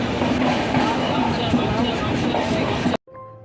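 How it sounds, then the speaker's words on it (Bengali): The Saraighat Express runs on its rails, a loud steady rumble and rattle that cuts off abruptly to near quiet near the end. "এখন আমাদের ট্রেন পৌঁছে গেল বোলপুর শান্তিনিকেতনে।"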